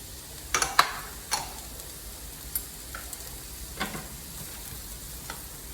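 Radishes and onions sizzle steadily in a pan for a keto picadillo, with a constant, close-up frying hiss broken by a few scattered pops and light clicks of a utensil, and no voices.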